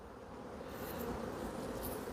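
Honey bees hum around an open hive during an autumn inspection, a steady, dense buzz that holds close and fairly quiet throughout, with no voices.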